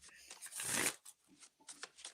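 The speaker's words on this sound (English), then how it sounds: "This deck shuffles so good, Celina." A deck of tarot cards is riffled and shuffled in soft, brisk flutters with one longer riffle, fairly quiet and close, with no one talking.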